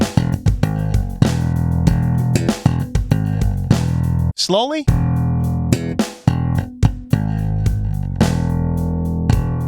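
A slap bass lick comes in fast percussive bursts of snapped and thumbed notes, loud and up close, with a single short spoken word breaking in near the middle.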